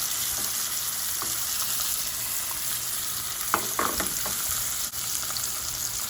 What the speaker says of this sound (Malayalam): ഇനി നമുക്ക് നമ്മുടെ മീൻ എണ്ണയ്ക്കകത്തോട്ട് അങ്ങ് എടുത്ത് വെക്കാം.